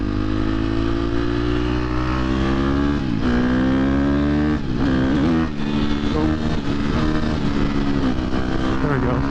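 A 2023 KTM 250 XC-F dirtbike rides on the street in traffic, its single-cylinder engine droning loudly and close, revving and climbing in pitch through gear changes without letting up.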